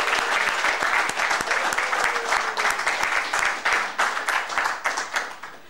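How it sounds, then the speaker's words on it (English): A crowd applauds steadily, dense clapping from many hands, loud and continuous, thinning slightly toward the end. "a big, big applause for all of them who made this as a wonderful thing"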